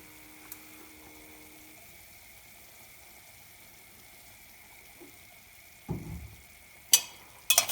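Thawed minced meat browning in a pan as vegetable oil goes in, while cooking an Adana-style spinach root dish. A low steady hum gives way to a sudden near sizzle in the last couple of seconds, with a few sharp clatters.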